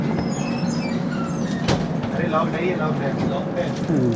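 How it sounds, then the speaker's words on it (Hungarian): A passenger train in India rolls past close by with a steady rumble and clatter and a brief squeal, while people talk nearby. "The train is going."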